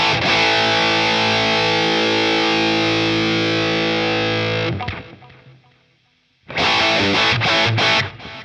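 An electric guitar played through a Danelectro Cool Cat distortion pedal with gain at full rings out in a thick, sustained distorted chord, then cuts to faint hiss before another burst of heavy strummed chords.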